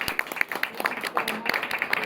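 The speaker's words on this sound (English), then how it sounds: "let's give Joe a round of applause" Audience applause for Joe Cortright at a Strong Towns PDX talk, steady rhythmic clapping from a small crowd, fairly close, with a few voices mixed in.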